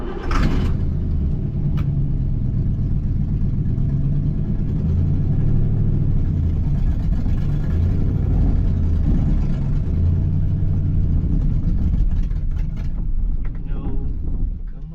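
A rusty Corvette's engine runs on starting fluid, a loud, steady, rumbling idle that holds throughout with slight surges near the end.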